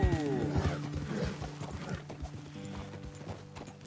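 Horse hooves clip-clop on the ground in Red Dead Redemption 2, with a loud whinny up front, then the hoofbeats keep going in an uneven rhythm as the horses settle.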